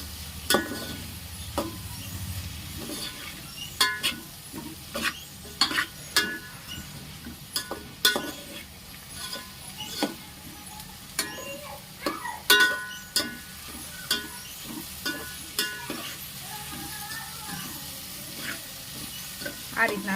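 A spoon stirs a garam masala mixture in a hot pan, giving soft sizzling under a run of scattered scraping clinks and taps against the metal, close and moderately quiet.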